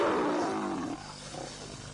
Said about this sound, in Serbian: Lavovi uče da riču od malih nogu.